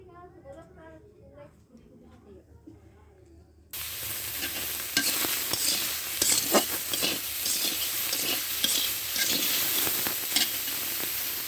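Green plantain pieces stir and fry in hot oil in a home kitchen pan, a quiet start giving way to a loud, continuous sizzle broken by scraping stirs, with someone speaking over the first few seconds.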